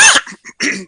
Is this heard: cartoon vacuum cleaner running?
no